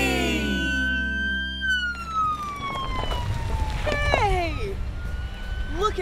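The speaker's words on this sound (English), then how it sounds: "Yeah, it's a police car." Police car siren wailing in long sliding tones, loud and near, over background music and rumble, with a brief burst of chirping yelps near the end.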